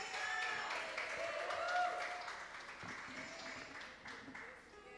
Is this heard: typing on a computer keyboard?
no